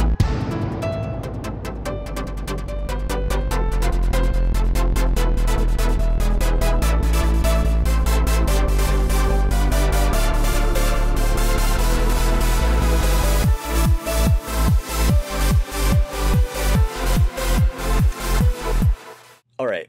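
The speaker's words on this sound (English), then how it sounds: "I'll play you what I've made" Cheesy rave synth lead built in Logic's ES2 synthesizer plays a loud, dense, buzzy sequence for about thirteen seconds, then breaks into evenly spaced, punchy pumping stabs before stopping.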